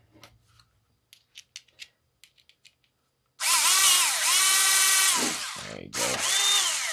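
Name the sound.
power drill pre-drilling wood for a cedar birdhouse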